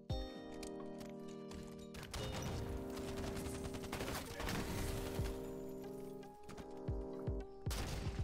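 Gunfire from a Halo shooter game: a shotgun and other weapons fire in a dense, rapid fusillade of sharp blasts over a steady game hum, with loud bursts packed throughout and a few spaced single shots near the end.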